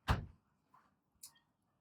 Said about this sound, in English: No, shut the door.